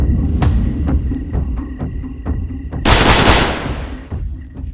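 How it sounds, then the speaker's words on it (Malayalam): Rapid bursts of gunfire ring out as a sound effect in an action audio drama, loud and close, with sharp repeated shots and a dense blast of firing near the middle, and no voices. "തൊട്ടു പിന്നാലെ കരീഷ്മ വെടി ഉതിർക്കാൻ തുടങ്ങി."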